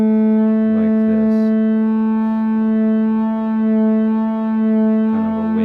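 A sustained FM synthesizer tone with modulation giving it a gentle waving, wavering quality, steady and fairly loud, with brief bits of a voice near the start and end.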